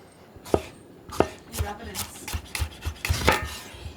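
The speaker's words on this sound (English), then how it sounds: "The real test. Cut the tomato." A sharp knife slices a tomato on a cutting board, giving a run of crisp, close chopping strokes, roughly eight cuts at an uneven rhythm, each with a light board knock.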